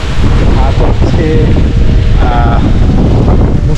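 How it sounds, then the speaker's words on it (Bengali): Rain falls with wind in a rural Bangladeshi village among ripe paddy fields, a loud, continuous rushing wash with wind buffeting the microphone, close and unbroken, while faint voice-like tones surface briefly. "বৃষ্টি হচ্ছে মোটামুটি ভালোই, বাতাস, মানে অন্যরকম একটা পরিবেশ।"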